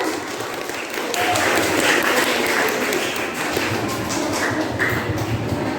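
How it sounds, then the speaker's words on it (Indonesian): A school audience at a student council election debate claps for the two candidates, a dense roomful of applause that swells and holds, with some voices underneath. "Beri tepuk tangan lagi untuk kedua kandidat"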